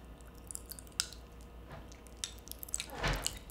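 Pop Rocks candy eaten with Coke shaved ice crackles and pops inside a mouth. Faint, scattered snaps and wet squishes sound close and quiet over a low background hum.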